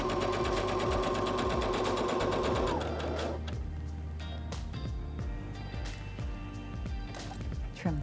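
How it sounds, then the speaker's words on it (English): A Heavy Duty HD6605C sewing machine stitches fabric in a steady, fast mechanical hum that stops after about three seconds, followed by quieter clicks and handling sounds, up close with no talk. "Place our fabric underneath the presser foot and step on the foot control to start sewing."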